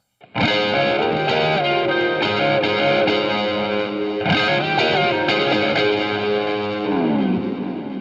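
Electric guitar riff with slides, pull-offs and hammer-ons played through a Line 6 Helix tone with effects and chorus, a loud continuous sustained phrase of ringing notes with no talking.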